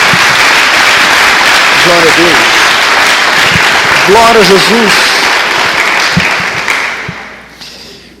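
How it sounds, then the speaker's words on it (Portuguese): A church congregation applauds loudly and steadily, dense clapping filling the room while voices call out praise over it, fading off at the end. "Dê uma salva de palmas a Jesus."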